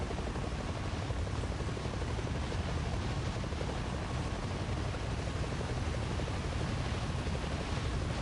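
A model helicopter with jet turbines runs continuously after a landing, a dense, unbroken roaring hiss at steady loudness from start to finish.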